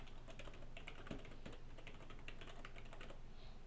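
Soft, rapid keystrokes on a computer keyboard as a website address is typed in, a quiet, even stream of taps.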